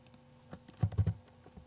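A few quick computer keyboard keystrokes for save and quit shortcuts, close and fairly soft, clustered in a brief burst with a couple of isolated clicks.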